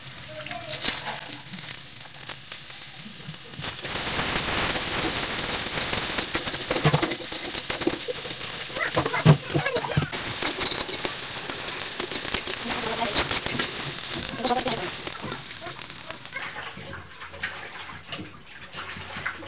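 Green beans fry in a pan with continuous crackling, hissing sizzle that rises and stays busy throughout, close and fairly loud, with brief spatters and a voice talking at times underneath.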